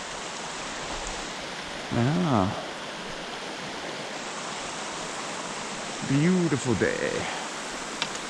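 Creek water rushes steadily at the confluence of Porter Fork and Mill Creek in snowy Mill Creek Canyon, Utah. The flow is a constant broad hiss, and someone speaks briefly twice over it.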